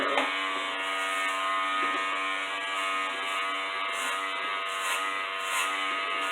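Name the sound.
electric hair trimmer cutting hair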